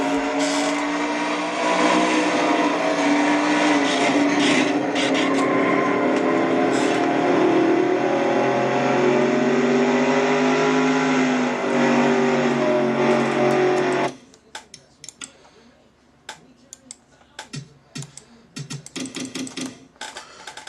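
Race car engine heard on board car 6 in a Nationwide Series racing video game, a loud steady droning whine for about fourteen seconds, then cutting to quieter intermittent engine bursts.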